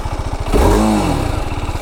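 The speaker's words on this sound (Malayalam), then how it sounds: "എനിക്കിഷ്ടപ്പെട്ടു കേട്ടോ ഇതിൻ്റെ ഒരു എക്സോസ്റ്റ്" A 2025 TVS Apache RR 310 motorcycle's exhaust rises from a steady idle into a loud, close rev that swells and falls back over about a second before settling to its lumpy idle again.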